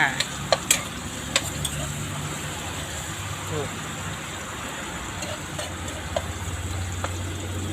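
Pork and squid stir-fried with holy basil crackle steadily in a pan, with sharp spatula clacks against the metal near the start and a low engine-like hum underneath.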